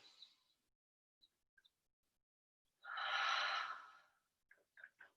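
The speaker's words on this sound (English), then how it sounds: "take a big breath in and a big breath out" Deep breathing during a pregnancy yoga session: one long, loud airy exhale in the middle, framed by faint soft breaths and small clicks, with no talking.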